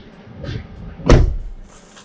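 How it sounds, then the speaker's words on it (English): A Jeep Cherokee XJ door, its edge freshly ground down during a boatside body modification, gives one solid metallic clunk as it swings open, close and loud against a quiet garage. "Should be able to open the door and it clears just fine."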